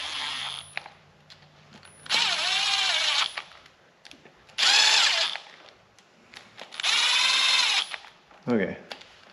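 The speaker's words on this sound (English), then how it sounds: "I'm gonna run these in with my little M12" Milwaukee M12 cordless drill running bolts in during an LS3 cam install, three loud whirring bursts of a few seconds each with a short ratcheting burst at the end, and faint background noise in between.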